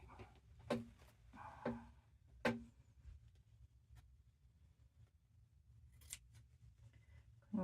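Scissors trim fabric for a stitched journal cover with a few distinct, quiet, close snips spaced irregularly across a hushed background, including a couple of softer cuts and a final snip.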